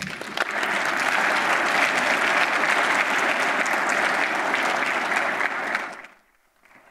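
Audience applause welcoming keynote speaker Bob Diamond at a business conference, a loud, dense, steady clapping from a large crowd that fades out near the end.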